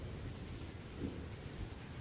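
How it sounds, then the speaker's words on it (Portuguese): Heavy rain pours steadily with a low rumble of thunder beneath it, a dense, even hiss of rainfall with no voices. "O dia amanheceu com muita chuva e uma ventania forte e impetuosa"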